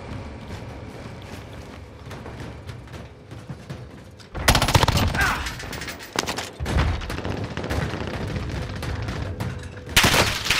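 Rapid bursts of automatic gunfire and loud cracks in the Call of Duty Warzone video game, quieter at first and then suddenly intense and close, with repeated volleys continuing to the end.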